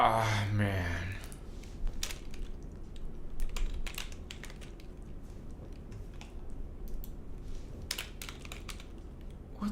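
Rapid, uneven tapping on a computer keyboard runs through the whole stretch, close and fairly loud, with brief pauses between bursts of keystrokes and a short burst of voice at the very start.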